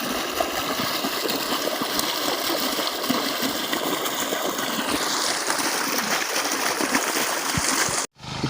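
Water gushes steadily from a tap in a loud, continuous hissing splash that stops briefly just before the end.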